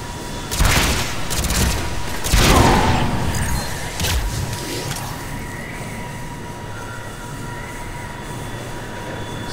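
Gunfire and heavy impacts in the sci-fi action video game Mass Effect 3, a couple of loud bursts and booms early on that settle into a rumbling mechanical background.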